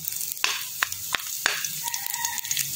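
Onion and garlic browning in a frying pan crackle with a soft sizzle, broken by several sharp clacks of a utensil against the pan and a brief faint tone.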